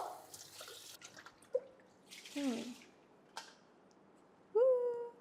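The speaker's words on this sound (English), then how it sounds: "So rinse the mixing bowl." Water rinsing a Thermomix mixing bowl: sparse, faint drips and splashes with a few squeaky, ringing contacts against the bowl, quiet and close with pauses between.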